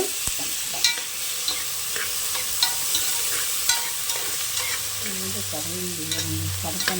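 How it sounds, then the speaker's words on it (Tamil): Tomato sautés in a pan for a greens and green gram curry, with a low steady sizzle and repeated scraping stirs at irregular intervals, and no talking. "இது நல்லா வதங்கட்டும்"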